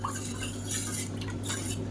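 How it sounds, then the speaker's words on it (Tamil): Soft scraping and clinking of a utensil stirring karuppu kavuni black rice porridge in a metal pot on a gas stove, steady and fairly quiet, with no voices. "இப்போ கேஸ் ஆன் பண்ணிவிட்டு கலந்து விட்டுக்கலாம்."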